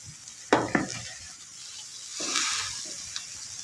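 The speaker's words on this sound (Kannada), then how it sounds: "ಉಪ್ಪು ಹಾಕಿ ಮಿಕ್ಸ್ ಮಾಡ್ಕೊಳ್ಳೋಣ. ನೋಡಿ, ಇದಕ್ಕೆ ಹಾಕಿ ಮಿಕ್ಸ್ ಮಾಡ್ಕೊಳ್ಳೋಣ." A spoon scrapes and stirs through salted potato filling for aloo paratha in a pan, with a couple of sharp clinks against the metal over a soft sizzling hiss, close up and without talk.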